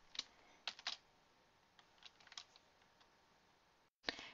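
Computer keyboard keys clack in a few quick, faint clusters of taps with gaps between, then a final cluster after a brief silence.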